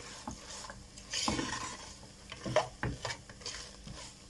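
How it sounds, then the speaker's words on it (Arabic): A spoon stirs carob powder and sugar together in a pot, giving soft scraping and gritty rubbing strokes with a few light knocks, quiet and close. "ونقلبه معاه كويس لغايه ما يمتزجوا ببعض ويغلوا غلوه قبل ما نحط الميه"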